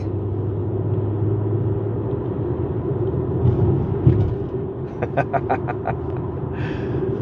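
A 2025 Acura TLX Type S drives through a mountain canyon, its engine a steady low rumble with road noise throughout and a few brief clicks near the end.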